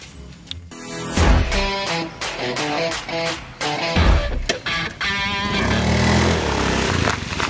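A motorcycle engine revs and idles close by, its uneven throttle bursts mixed with background music in a Sundanese comedy skit.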